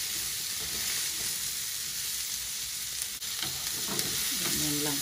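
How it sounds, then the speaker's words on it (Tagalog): Udon noodles are stir-fried in a pan with a loud, continuous sizzle and crackle up close, broken by scraping stirs toward the end, with no speech. "Gisa-gisa saglit."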